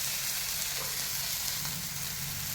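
Bread uttapam fries in a hot pan, giving a steady, fairly quiet hiss of sizzling oil that runs without a break and with no talk.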